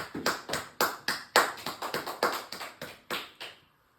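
A church congregation at a Sunday service applauds in a burst of irregular, overlapping claps, loud and close, that fade out quickly at the end.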